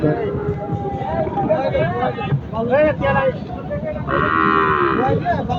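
A cow moos loudly in long drawn-out calls, close by, over wind noise and a babble of voices.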